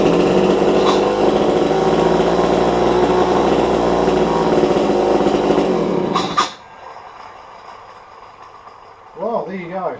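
A Homelite C51 chainsaw, an old saw, runs loud and steady for about six seconds, then cuts out abruptly, leaving quiet with a brief voice near the end.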